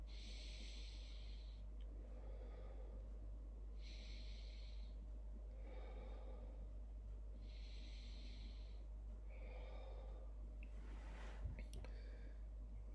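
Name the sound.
stomach breathing exercise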